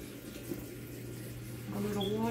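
Water pours steadily into a bowl of chicken marinade with a soft, continuous trickle, fairly faint, and a voice begins speaking near the end.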